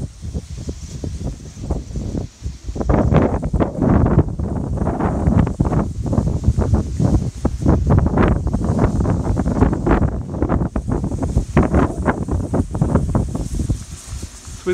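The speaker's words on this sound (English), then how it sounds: "As I go around this corner, it's going to be quite windy." Strong wind buffets the microphone on the coast at American River, Kangaroo Island, South Australia, in loud, gusty roaring bursts that rise and fall continuously with no voices.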